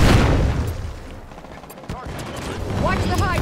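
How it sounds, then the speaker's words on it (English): Rockets and gunfire in Halo 5 during a Capture the Flag match on the Traverse map, a steady dense rumble of shots and blasts that runs loud throughout with brief sharp cracks. "They got rockets on me!"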